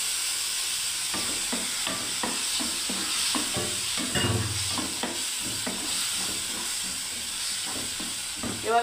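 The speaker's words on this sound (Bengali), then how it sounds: "এবারে বন্ধুরা দেখুন আমি টমেটো পেস্ট দিয়ে দিচ্ছি।" Tomato paste frying in a pan with a steady hiss of sizzling throughout, broken by repeated scraping and stirring strokes. A few louder spatters come partway through, and no one speaks.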